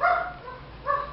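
A guard dog gives two short, close barks separated by a brief pause, with no talking.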